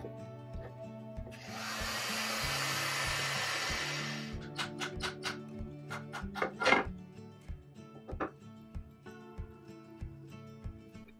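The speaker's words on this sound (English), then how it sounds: "I used my heat gun to take the frame apart and I re-glued them" A heat gun blows a steady broadband roar for a few seconds while loosening old rocking chair frame joints, then cuts off, followed by scattered wooden knocks and taps as the parts are handled.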